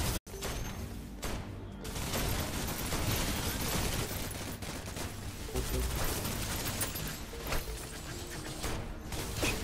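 Rapid gunfire from the video game Snowbreak: Containment Zone crackles in dense, continuous bursts with sharp shots and mechanical clatter, loud and busy throughout.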